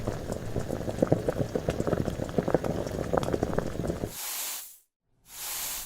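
Rice boiling in a pot, a close, steady bubbling and popping that runs for about four seconds before it cuts into a soft whooshing swell, a short silence, then another swell.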